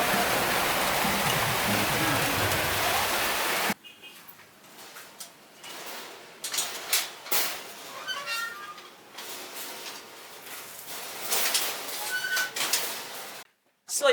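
Heavy rain pours down in the countryside, a loud dense roar for a few seconds before giving way to quieter scattered sounds, clattering and dripping at closer range.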